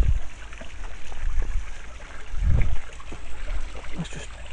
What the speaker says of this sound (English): And you can hear another little waterfall.